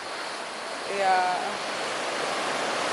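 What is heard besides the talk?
sea waves breaking on the beach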